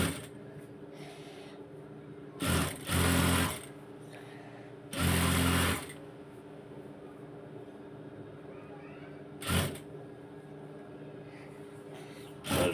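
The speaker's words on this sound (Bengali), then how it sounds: "এটাকে এখন উল্টিয়ে আবার ভিতরের দিকে ইনসাইডের দিকে সেলাইটা দিয়ে দিব" A home sewing machine stitches the inside seam of a fabric garment in short bursts, four clear runs of loud mechanical rattling separated by quiet gaps with a faint low hum.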